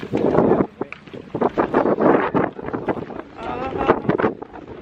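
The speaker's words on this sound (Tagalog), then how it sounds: "Mahangin." Strong gusts at a beach buffet the microphone in heavy, rumbling bursts, with people talking close by underneath the wind.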